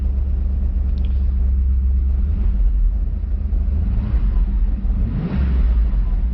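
A Pontiac Trans Am engine idles with a freshly broken-in new camshaft and initial timing set to 22 degrees, a loud, steady low rumble with a slight rise in revs near the end, close and unbroken by talk.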